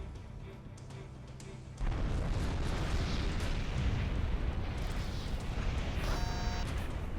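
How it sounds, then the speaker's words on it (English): A fuel-air (FAE) bomb dropped from an A-10 in Ace Combat 6 detonates after a low rumble, bursting into a loud, sustained roaring blast that fills the rest of the moment. "Releasing FAE bomb."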